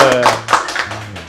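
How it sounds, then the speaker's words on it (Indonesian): A few sharp claps from an Indonesian talk-show audience ring out in an uneven burst, mixed with a sustained musical tone and a brief voice underneath. "Tepuk tangan dulu dong"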